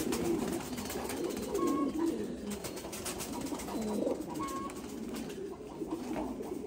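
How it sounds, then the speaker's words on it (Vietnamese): Thai Titan breeding pigeon pairs coo in a loft, soft low repeated coos rising and falling over a quiet rustling background. "những cặp chim bồ câu rất đẹp. Đây là những cặp chim bồ câu bố mẹ"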